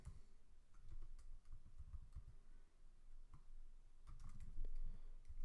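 Quick, quiet keystrokes on a computer keyboard during a typing speed test, a steady patter of soft clicks with a few sharper taps, fairly close and without speech.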